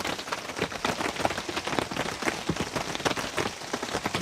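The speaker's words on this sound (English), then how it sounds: "I'll show you how hard it's actually raining. Listen to that." Heavy rain falls outside in a dense, continuous hiss of drops drumming on surfaces, steady and fairly loud, with no voices.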